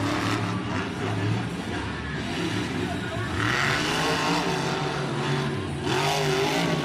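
Monster truck engine revving hard during a freestyle run at Monster Jam in Orlando, a loud continuous roar with surging throttle over crowd noise in a stadium, with a commentator talking over it.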